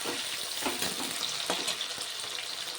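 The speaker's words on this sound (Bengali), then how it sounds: "পেঁয়াজগুলো নাড়াচাড়া করে ভেজে নিচ্ছি" Onions frying in oil while being stirred, a steady dense sizzle broken by brief stirring scrapes, close and fairly loud with no talk.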